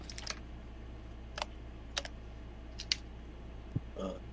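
Keystrokes on a computer keyboard come as a handful of sharp, scattered clicks in short bursts, fairly quiet against a low steady background hum.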